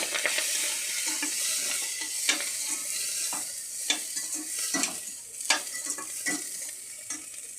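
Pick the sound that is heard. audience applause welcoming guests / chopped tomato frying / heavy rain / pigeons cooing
chopped tomato frying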